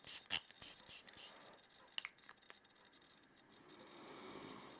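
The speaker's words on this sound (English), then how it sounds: "let us shake this up and spray it in the room." A lilac room spray bottle is shaken in a few quick rattling bursts, then gives short hissing sprays, followed by quieter faint shuffling and room noise.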